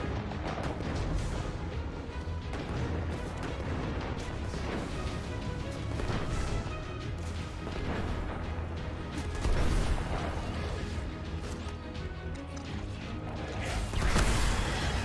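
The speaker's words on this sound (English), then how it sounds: "too close to my own explosions there" Dense, chaotic Destiny game action with repeated crashing blasts and booms, loudest near the middle and end, under a constant busy roar.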